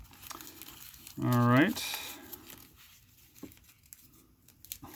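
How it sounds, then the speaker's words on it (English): A plastic bag crinkles as it is pulled out of a well-taped mail package holding a coin, with short bursts of rustling close by under a person's brief speech. "Okay, there is a plastic bag there"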